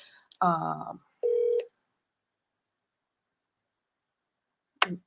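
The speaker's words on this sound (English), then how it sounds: "And why is he not answering the phone now?" A phone call is placed and rings out unanswered: a short burst of dialing tones, then a steady ring tone, a long silence and a brief closing beep.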